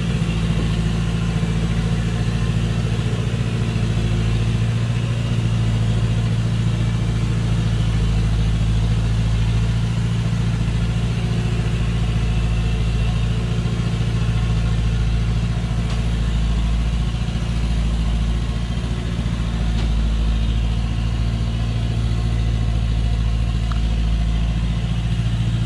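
A loaded truck hauling acacia wood labors up a slope on a forest road, its engine droning loud and steady at mid pitch throughout, with no voices over the rumble.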